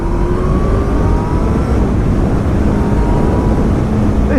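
A 2019 Honda CB1000R Plus motorcycle fitted with a Termignoni GP2R exhaust revs steadily at moderate rpm, a loud, continuous, close engine roar with a rough low rumble and no voices.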